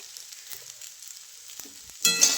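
Okra (bhindi) is stirred in a frying pan: a quiet stretch with soft scrapes, then a sudden loud burst of sizzling near the end.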